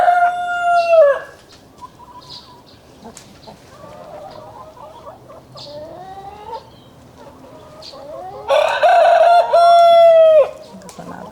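Roosters crow in a backyard urban chicken coop: one loud close crow opens, softer clucks and distant calls follow, then another full, loud crow near the end.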